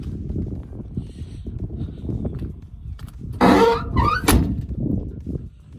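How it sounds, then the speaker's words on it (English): A VC Valiant car door is pulled shut with a squeaky scrape and then a solid thunk, close and loud above low rumbling background noise. "Shut the door."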